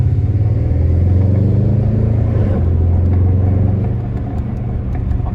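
A naturally aspirated 450 hp Audi RS5 V8 with quattro all-wheel drive and an automatic gearbox gives a deep, steady, loud rumbling engine note heard close up with no talking.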